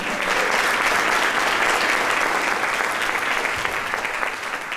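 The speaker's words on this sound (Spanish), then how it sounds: "le damos un aplauso al Señor" A church congregation in a Spanish-language service gives sustained applause, dense and steady clapping from a sizable crowd holding at a constant level throughout.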